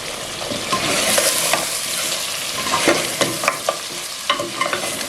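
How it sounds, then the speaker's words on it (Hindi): Kasuri methi and freshly added onions are stirred into frying gosht for a meat-and-onion stew, with repeated scraping strokes of the spoon over a constant loud sizzle. "और हम अच्छी तरीके से मिक्स कर लेंगे।"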